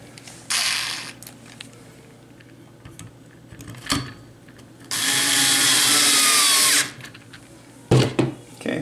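A power screwdriver drives screws into parts of a vector monitor kit, with short whirring bursts and one longer run separated by quiet gaps and small handling clicks.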